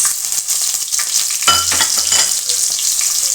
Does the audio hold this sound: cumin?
yes